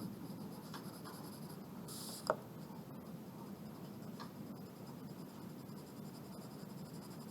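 Graphite pencil shading on paper builds up a core shadow in soft, continuous strokes, a quiet steady scratching throughout with one brief sharper tick partway through.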